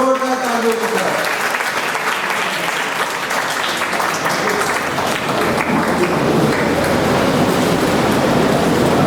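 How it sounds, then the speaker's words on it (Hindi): Children applauding loudly at a gathering, a sustained, dense roar of clapping that swells and holds steady throughout, with a voice heard briefly at the start. "जोरदार तालियों के साथ बच्चों, जोरदार तालियों के साथ"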